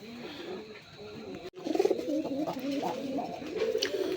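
Domestic pigeons coo softly and steadily at close range, low throaty rolling calls repeating over a faint background hum.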